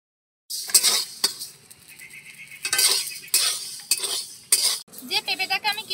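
Rice mixed with a little water and salt being dry-fried and stirred in a pan on salt, with repeated scraping and clinking of utensil against the pan in uneven bursts, close and fairly loud.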